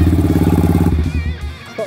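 A Yamaha YBR125 motorcycle engine fitted with a 150cc big bore kit idles nearby with a rapid, even putter that fades and stutters near the end, a voice briefly audible over it.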